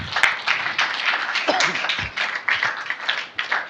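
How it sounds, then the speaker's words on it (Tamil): A church congregation at a new moon prayer service claps and applauds in a dense, continuous patter, with scattered voices calling out over the clapping. "நீங்கள் தான் என்னை கைத்தட்டி முடிக்க வைக்கணும்"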